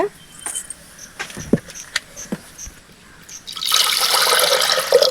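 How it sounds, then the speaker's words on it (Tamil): Water poured into a clay pot set on a stove, preceded by scattered light clinks and taps, then a steady close splashing pour in the final seconds. "நம்ம அடுப்பில் மண்கடாயை வச்சு ஒரு அரைச்சந்து தண்ணி உள்ளே ஊற்றிக்கலாங்க"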